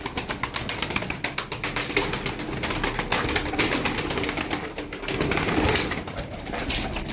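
A flock of Sütbeyaz pigeons coos steadily at close range, a dense, continuous murmur of calls with occasional soft wing flutters mixed in.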